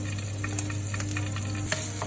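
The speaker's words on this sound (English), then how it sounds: "Now to that I will add some ginger and garlic." Ginger and garlic sizzling in a pan with curry leaves and green chilies, a loud steady close frying hiss with a few light stirring clicks, no talking.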